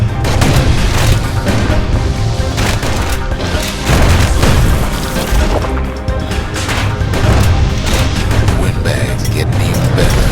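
Gunfire and explosions in the Bastion video game, with dense, loud booms and crashing impacts layered over a continuous music-like bed, with a narrator speaking intermittently.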